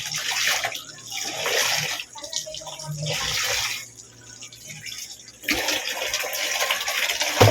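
Water sloshes and splashes in bursts while laundry is washed by hand, close by and fairly loud, with brief pauses between rounds of scrubbing and rinsing.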